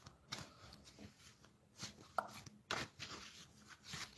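Tarot cards being shuffled by hand, giving soft, irregular riffling and slapping bursts with a few sharper snaps, quiet and close with no talk.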